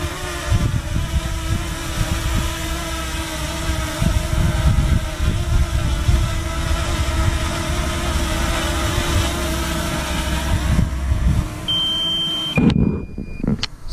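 A DJI Mavic Mini 2 remote controller sounds its low-battery alarm, a few short electronic beep tones late in the recording over steady outdoor engine-like rumble and wind.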